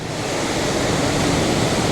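Rushing water at the lower falls in Glen Nevis, Scotland, swollen with extra water, makes a dense, steady roar close by with no voices over it.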